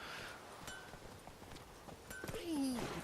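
Roach the horse in The Witcher 3 trotting up with a steady clip-clop of hooves at moderate distance, fairly faint under background game ambience, ending with a short whinny-like tonal call.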